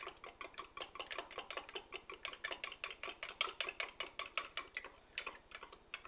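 A utensil stirring a very dilute, milky sourdough starter in a container: steady, rapid clinking and scraping strokes, close and fairly quiet, with a brief pause near the end.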